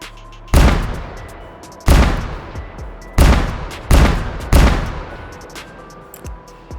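Five loud, sharp revolver shots from a Black Ops III weapon in the H3VR virtual-reality shooter ring out close and alone, spaced about a second apart, each one leaving a decaying echo tail.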